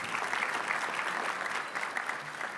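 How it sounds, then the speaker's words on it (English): An audience at an Urban League annual dinner claps together, a warm steady wash of applause heard from a little distance, brief and without cheering. "A round of applause for those who took part."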